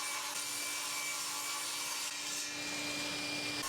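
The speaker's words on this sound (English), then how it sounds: "with my regular blade fitted again in the table saw, I can trim the side panels to their final width" Table saw with its regular blade trimming birch plywood side panels to final width, a steady, continuous loud cutting whine and rasp running throughout without a break.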